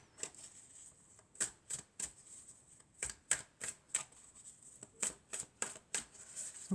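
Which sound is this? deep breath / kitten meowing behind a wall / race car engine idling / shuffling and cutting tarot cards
shuffling and cutting tarot cards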